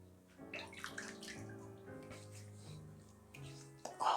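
Running tap water rinses a face after a straight razor shave, a steady moderate flow with a tonal hum running through it and a brief louder splash at the end.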